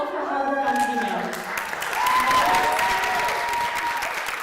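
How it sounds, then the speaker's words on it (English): Loud audience applause with some cheering at a gathering honouring a staff member's philanthropy work, dense sustained clapping with voices and whoops mixed in. "give Mel a huge round of applause"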